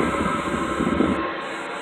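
Air blower on a homemade $15 backyard forge running steadily, a constant broadband rushing whoosh with a low rumble, close and unbroken for the whole stretch.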